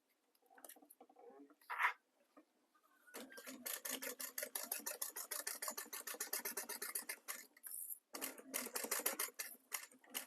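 A sewing machine stitching down a zipper, rapid rhythmic bursts of needle clatter in several runs with short pauses between, fairly quiet and close.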